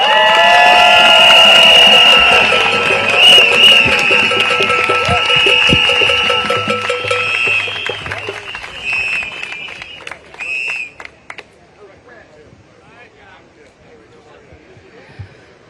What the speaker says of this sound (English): give another round of applause for our Reverend Graham Hadley